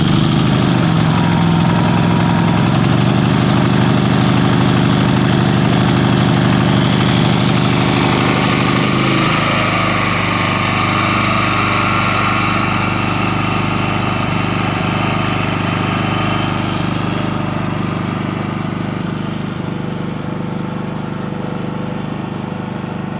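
A Westinghouse iGen 4500df portable generator engine runs loudly and continuously, its pitch shifting and rising partway through as it revs up, with no talking.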